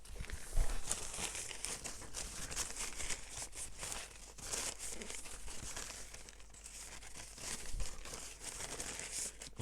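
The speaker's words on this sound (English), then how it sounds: "Could do with a paper towel," Crinkly crumpling and rustling of a paper towel being scrunched up while drying decorative sticky tape, a steady close-up scratchy texture with a few louder crunches and no talk.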